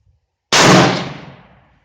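A French MAS 36 rifle fires a single 7.5x54mm round: one loud, sharp crack out of silence, followed by a fading echo tail lasting about a second.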